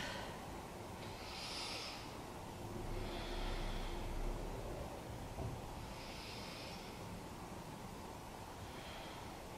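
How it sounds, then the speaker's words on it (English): Slow, deep belly breaths during a beginner yoga session, several soft airy inhales and exhales at an even rhythm, faint and close with no talking. "Let's take 3 big breaths into the belly."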